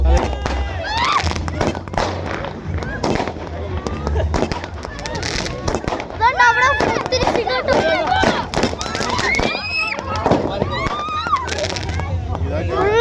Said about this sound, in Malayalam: അവിടെ പടക്കം പൊട്ടുന്നുണ്ട്.